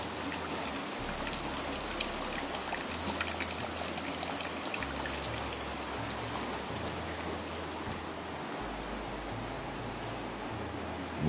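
Steady rain falling in a transmigration village in Sepunggur, a soft constant hiss of drops on surfaces with faint trickling water, fairly quiet and continuous, no voices.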